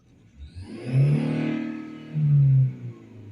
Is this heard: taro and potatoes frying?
no